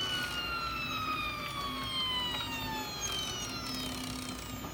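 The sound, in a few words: Ultimaker 3D printer driving filament to nozzle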